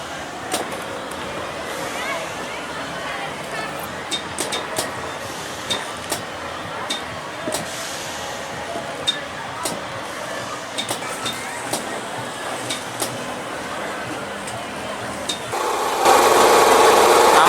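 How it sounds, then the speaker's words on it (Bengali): A kiddie train ride at Fantasy Kingdom amusement park in Dhaka rumbles steadily along with a continuous mechanical whir and scattered light clinks and clacks, growing brighter and louder near the end. "আমরা এখন জুজু ট্রেনে চড়েছি"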